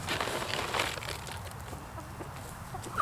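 A farm rooster clucks close by in a steady run of calls over a busy outdoor background, with no voices.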